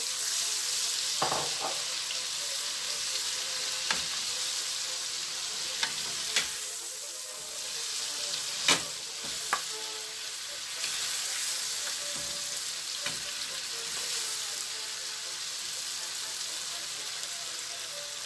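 Marinated pork frying in a pan, a steady bright sizzle throughout with occasional sharp pops and utensil taps.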